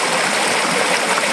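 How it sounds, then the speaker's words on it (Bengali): Water in a stream near Kolkata flows steadily, a continuous close rushing and babbling that fills the short moment without any voices. "এই যে জলের স্রোত আর জলের যে সাউন্ড খুবই সুন্দর লাগছে"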